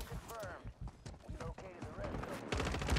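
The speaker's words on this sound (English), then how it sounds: "Dude, he got hit by an airstrike." Gunfire and explosive blasts from an airstrike hitting a player in an online shooter game, a burst of loud impacts under excited overlapping voices, building to a heavier roar at the end.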